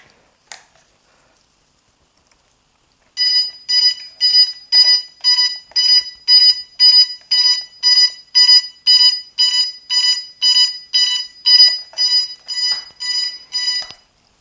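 A DJI Phantom drone sounds a fault alarm: after a single early click, a rapid series of about twenty loud, evenly spaced high electronic beeps runs steadily for roughly eleven seconds, close by with no talking.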